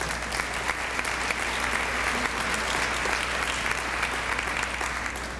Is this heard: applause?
yes